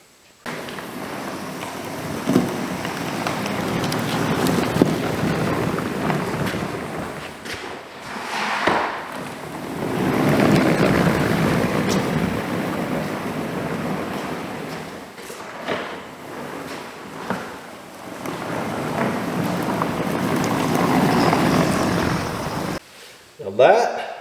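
Vevor floor sweeper running across an oily, dirty garage floor, a steady broad rushing whir with brushing and scraping that continues throughout, a few louder knocks mixed in and a voice occasionally over it.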